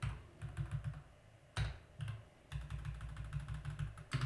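Quiet typing on a computer keyboard while entering a PowerShell command, with bursts of quick keystrokes separated by short pauses and a few sharper isolated key presses.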